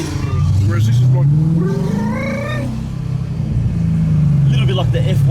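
Tuned 2017 Ford Mustang GT V8 revving hard, a loud close engine note rising and falling in pitch as it climbs through the revs, with a voice talking briefly over it.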